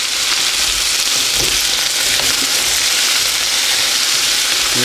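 Breakfast potatoes with onions and red peppers fry loudly in a pan, a dense, close, continuous sizzle as they are stirred, with faint scraping under the crackle.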